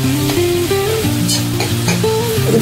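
Onion sizzling in a hot pan while being stirred, a steady close frying hiss with soft scraping of the spoon, and background music playing over it.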